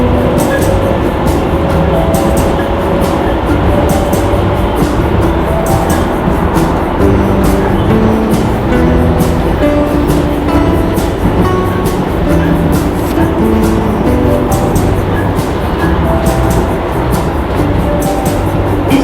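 A DLR train travels between Canning Town and Beckton, a steady loud rumble of wheels and motors with a rhythmic clatter over the rails running throughout.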